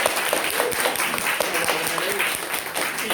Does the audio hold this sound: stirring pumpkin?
no